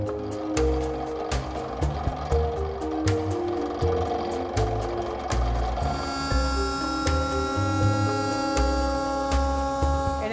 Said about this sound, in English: take the paddle blank that you have in your hand, then we run it through our CNC router.